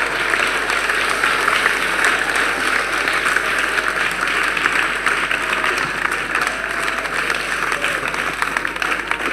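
A church congregation clapping together during a worship service, a steady wash of many hands sustained for several seconds, loud and continuous with a crowd murmur underneath.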